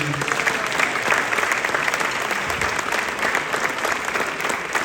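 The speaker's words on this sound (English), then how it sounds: "Round of applause for Stevens Middle School, Jazz 2, and Waldo Middle School as well, please." Dense, steady applause from a school concert audience at the close of a middle school jazz night, a continuous wash of many hands clapping at full strength for about five seconds with no talk over it.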